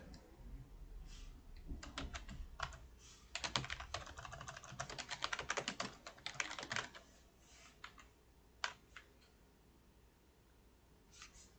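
Rapid bursts of keystrokes on a computer keyboard while writing C++ code, dense clattering typing in the middle with sparser taps and pauses near the end, close and fairly quiet, no talking.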